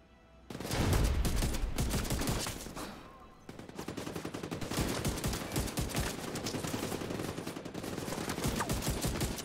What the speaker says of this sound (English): Got a lot of heavy arms fire coming in.